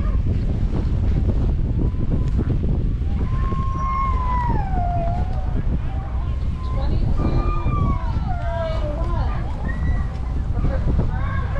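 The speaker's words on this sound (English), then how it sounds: "It is currently minus 22 degrees here, snowing and very windy" Strong wind roars steadily across the microphone at minus 22 degrees in falling snow at a Canadian dog sled race, with whistling, howling tones rising and falling over a constant low buffeting.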